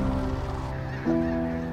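Geese honk loudly at a North American wetland, a few nasal calls close by, one sharper honk cutting in midway, with no speech.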